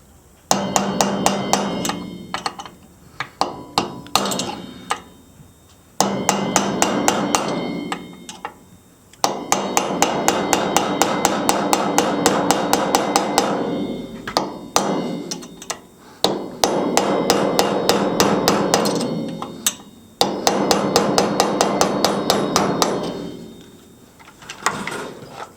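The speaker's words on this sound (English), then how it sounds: "So typically all I do is I just take this punch and I tap the end of this." Metal punch struck repeatedly with a hammer while working a part out of an Echo CS-590 Timberwolf chainsaw: bursts of rapid, sharp, close metallic taps separated by short pauses, steady and loud throughout.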